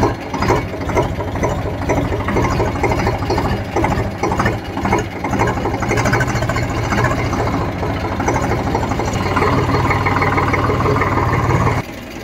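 A farm tractor idles close by with a steady, rhythmic chugging and knocking that runs unbroken for about twelve seconds before cutting back at the very end.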